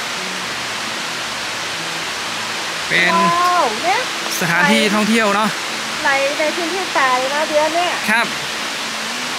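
Waterfall with water flowing over rocks at a rest pavilion, a constant loud rushing hiss throughout, with someone talking over it.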